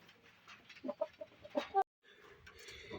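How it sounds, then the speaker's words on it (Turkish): Roosters cluck in a short run of close, sharp calls in a farm poultry pen, then a quieter stretch of softer fowl sounds follows. "Horozlara bakalım"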